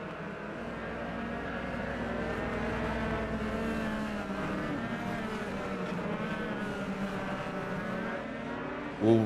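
Race cars roll around the track behind the pace car, a dense layered engine drone with multiple overlapping revving tones, loud and sustained throughout with no talking.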